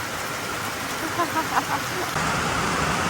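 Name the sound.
heavy rain falling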